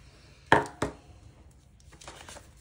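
Scissors make two quick, crisp snips close up while cutting paper planner strips for a 7x9 Plum Paper work planner. Soft paper rustling follows in a quiet room.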